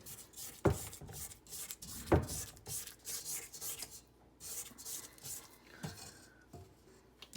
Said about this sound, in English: I'm going to scrape down the sides of my bowl